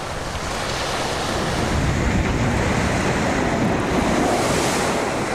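Rough, heavy surf of the Bering Sea churns steadily, a dense continuous roar of breaking waves with gusting wind across the microphone, loud and unbroken throughout.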